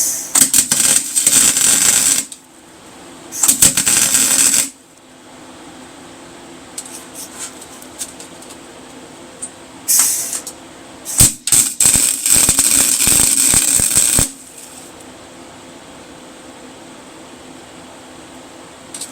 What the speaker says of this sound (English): I'm just going to go ahead and full weld this.